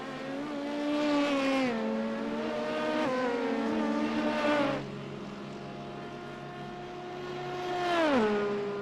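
Race cars overtaking in a racing video game: a steady, whining engine drone that holds its pitch, then drops sharply around a shift, with a second rising-then-falling pass near the end, and no talking.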